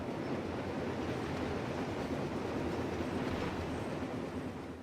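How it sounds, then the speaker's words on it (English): A train thunders past in Forza Horizon 3, a dense, loud, continuous roar of rolling wheels that stays steady for about five seconds before tapering slightly at the end. "Train!"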